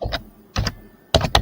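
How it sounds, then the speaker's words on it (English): Someone hammers hard on a computer keyboard, producing clusters of sharp, loud key clacks in quick irregular bursts separated by short pauses, close and alone. "You can hear him hammering his keyboard."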